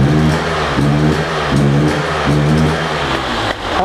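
A 2024 KTM 300 hard enduro two-stroke motorcycle engine runs close and loud, rising and falling through repeated revs in a steady rhythm.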